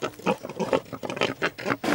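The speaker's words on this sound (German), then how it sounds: "Jan hat den Schwein noch nicht genug zu fressen gegeben." Close, rapid pig grunts and snorts, a busy run of short rough oinks one after another with no other sounds.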